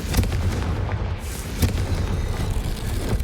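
Confringo fire spell blast in the video game Hogwarts Legacy: a dense, rumbling explosive roar with sharp booming hits at the start and middle, loud and continuous over a low heavy background.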